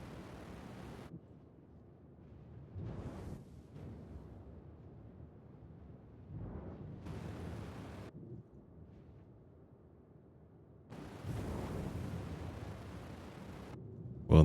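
Missiles striking a spaceship in Star Citizen set off deep, rumbling blasts in several bursts with quieter gaps between them, the last one long and loud.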